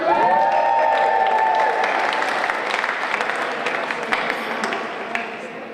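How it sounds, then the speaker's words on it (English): Audience applause at a fencing championship podium ceremony, a sustained round of clapping from a crowd in a large hall that starts full and gradually thins, with a voice speaking over the start and a few scattered cheers. "an extra round of applause for Damien Neal on his birthday"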